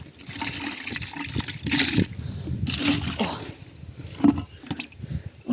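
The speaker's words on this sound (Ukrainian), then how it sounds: "Зараз мені тільки відра сполоскати" Water splashes and sloshes in irregular bursts as buckets are rinsed in a vegetable garden, with trickling in between and a few bangs of the containers.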